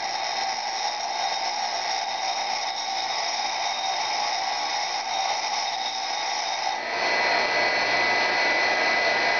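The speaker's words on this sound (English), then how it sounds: "so I'll grind a little more on the outside to correct some." A twist drill being hand-sharpened on a grinder gives a steady, close hissing whine that runs without pause and grows louder and fuller for the last couple of seconds.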